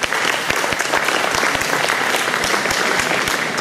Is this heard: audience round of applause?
yes